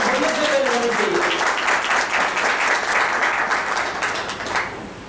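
A seated audience breaks into loud, dense applause for Dr. Ramesh Patil before he speaks. The steady clapping carries on for several seconds, then tapers and fades near the end.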